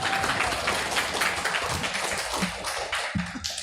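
Audience at a debate competition applauding, a steady wash of many hands clapping at moderate distance that thins out toward the end.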